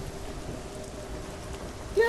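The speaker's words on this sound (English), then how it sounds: "Bit rainy. It's a bit of rain." Steady rain falls in a quiet, rustic village in Hellblade: Senua's Sacrifice, a soft continuous patter spread evenly with a low rumble beneath and no break, faintly present throughout.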